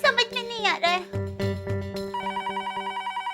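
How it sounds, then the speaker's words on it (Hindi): A telephone rings in a domestic comedy scene, its repeating electronic trill pulsing steadily and clearly through the second half after a voice and other sounds at the start. "फोन आया।"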